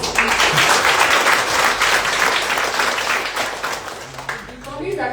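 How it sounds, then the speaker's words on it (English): Conference audience in Ahmedabad giving a speaker another round of applause, a loud sustained burst of many hands clapping that tapers off at the end, with a voice rising as it fades. "Can we have another round of applause?"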